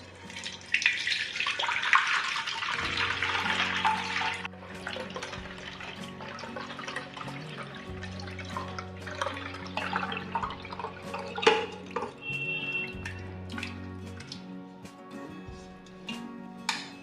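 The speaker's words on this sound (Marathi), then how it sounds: "त्यावर आता हा गव्हाचा चीक टाकून घेते, म्हणजे राहिलेला कोंडाही चाळणीत जमा होईल." Wheat milk for traditional Maharashtrian kurdai being poured through a sieve into a large vessel, a liquid gush and splash at first that thins into trickles, drips and light clinks of the vessel, close and moderately loud.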